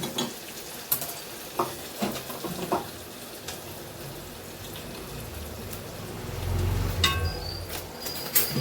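Tempering spices hit hot oil in a home kitchen, throwing out scattered sharp pops and crackles over a soft sizzle. The sizzle swells into a louder burst near the end, and no one speaks.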